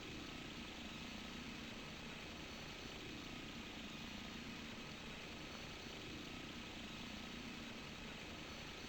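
Helicopter engine and rotor in a flight simulator game, a constant droning hum with a fine rapid rotor texture, steady and unbroken throughout with no talking.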